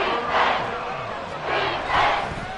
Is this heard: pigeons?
no